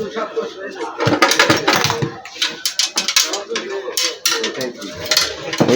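Old metal items from a century-old chest spill and clatter onto the floor in bursts of jangling, clinking rattles, close and loud, with people talking throughout.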